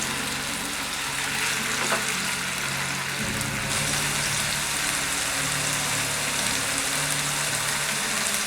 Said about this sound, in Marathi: ते थोडंसं आपण परतवून घेऊया।